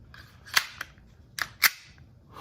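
An Elite Force Glock 17 Gen 5 airsoft pistol fires several sharp, snappy shots at uneven intervals, with a couple of softer clicks between, fairly quiet and close.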